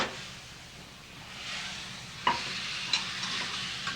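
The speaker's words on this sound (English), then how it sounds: "Then we're going to add this wine there." Wine poured into a hot pan holding a marinara sauce base sizzles and hisses steadily, with a few sharper crackles and stirring clinks partway through; no one talks.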